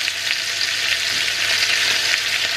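Celery stalks and vegetables stir-frying for Filipino-Chinese mein pancit, giving a steady loud sizzle with continuous hiss and faint stirring, no voices.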